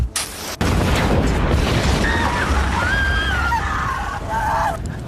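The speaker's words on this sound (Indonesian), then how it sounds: "memutuskan untuk meledakkan dirinya di rumah Kapol Uramura" In a samurai film, a henchman blows himself up inside a police chief's house: a loud explosion bursts in and gives way to a sustained roaring rumble and debris noise, with faint high cries mixed in.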